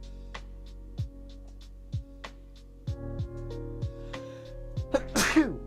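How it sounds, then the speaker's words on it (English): A single sudden human sneeze bursts out near the end, loud and close, after a stretch of quiet tonal game music with a steady beat. "Sneezing."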